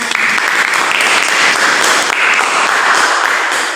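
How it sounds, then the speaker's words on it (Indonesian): Classroom applause at the close of a science teaching lesson in Indonesia, a loud, sustained wash of many hands clapping together with a slight swell midway, alone with no clear talk over it. "tepuk tangan untuk kita semuanya"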